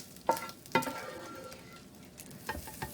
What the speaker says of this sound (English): So I'm getting my sausage, my fully cooked, no longer pink, but not burn up sausage, out of my skillet.